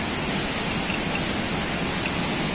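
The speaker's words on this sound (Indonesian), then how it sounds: "air terjunnya sudah kedengaran ya" Air Terjun Lubuk Hitam, a waterfall in West Sumatra, heard as a steady, unbroken broadband rush of falling water that stays constant throughout, moderately loud and without voices.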